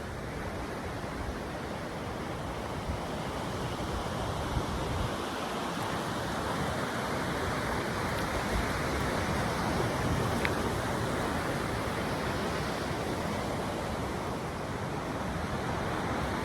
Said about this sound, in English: now I'm gonna rinse off with some cool water